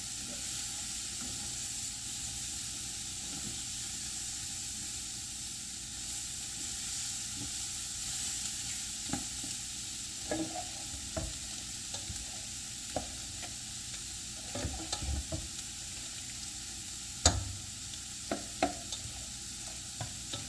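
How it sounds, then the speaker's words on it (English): A pot of seafood gumbo with shrimp tails and okra gets stirred, soft scraping and occasional spoon knocks over a steady low sizzle and simmer, close by and with no talking. "So I'm stirring up the shrimp tails or whatever"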